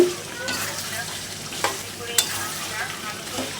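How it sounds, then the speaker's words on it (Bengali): Large chunks of potato go into mutton curry frying in a pot, with a soft continuous sizzle, a couple of sharp clinks and scraping stirs near the mic, no talking. "এই যে দেখো আমি আলুগুলো দিয়ে দিলাম"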